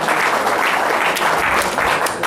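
A loud, steady round of applause from a radio show audience honoring Tarleton State coach Ronnie Hearne's 200th win, dense clapping filling the whole stretch without pause.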